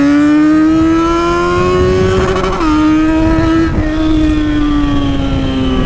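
A Yamaha XJ6 motorcycle at a traffic light revs hard and holds a loud, steady, rising engine note. A brief dip comes before it climbs again, and the exhaust echoes off nearby cars, close and dominant.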